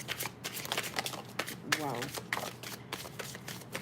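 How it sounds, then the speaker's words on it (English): A tarot card deck being shuffled by hand, rapid papery riffles and snaps in quick bursts, close up, with a person speaking over it. "I have a hard time shuffling as this because I have small hands"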